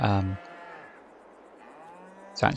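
Cows in the farming game Farming Simulator 22 moo in two bursts, a low drawn-out moo at the start and a shorter one at the end, separated by a quiet lowing hum, close and clear.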